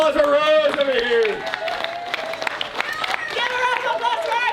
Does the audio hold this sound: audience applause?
yes